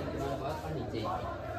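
Crowd of pilgrims chattering at night on the Khatu Shyam pilgrimage walk, a steady close murmur of many overlapping voices without pause.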